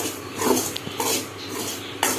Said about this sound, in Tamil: கை எடுக்காமல் வறுத்தே இருக்கணும்.